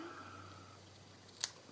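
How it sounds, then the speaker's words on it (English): Scissors snip ribbon ends tied in a bow on a handmade gift bag, giving one brief, sharp, close cut against a quiet room. "scissors to cut my ends"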